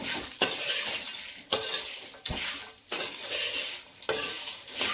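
Puri churmuri mixture with salt being stirred in a pan, repeated loud scraping, rustling strokes in bursts of about a second each, close up with no talking.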